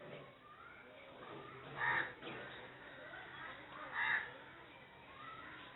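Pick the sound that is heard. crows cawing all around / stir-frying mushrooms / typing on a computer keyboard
crows cawing all around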